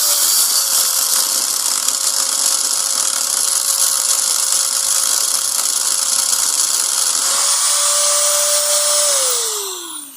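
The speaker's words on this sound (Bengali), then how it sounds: "তো আপনারা চাইলে কিন্তু এভাবে শান দিয়ে ঘুরিয়ে এই এক্সেলের জায়গার যে রাউন্ড শেপ, রাউন্ড মাল কাটাটা" A grinding machine mounted on a double bearing spins against an auto-rickshaw axle to shape its round section, giving a loud, steady high whine for about nine seconds before the pitch drops as it winds down.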